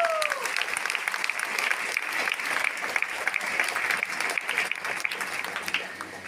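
Sustained applause from an audience at a lifestyle marketing company gathering, dense steady clapping running several seconds, with some voices audible underneath.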